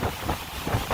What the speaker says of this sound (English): Those are hurricane force winds.